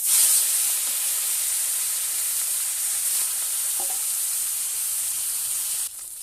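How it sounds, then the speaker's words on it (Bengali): Fish sizzling as it fries in hot oil in a wok, a loud, steady crackling hiss that fills the whole stretch up close, with a few faint clinks partway through and no talking. "তেলটা গরম হয়ে গেছে আর মাছগুলোকে দিয়ে দেবো।"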